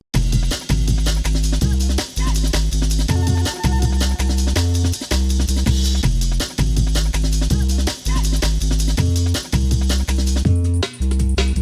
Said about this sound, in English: So we've got the Amen break, we've got the Think break, we've got the 808 bass line that I made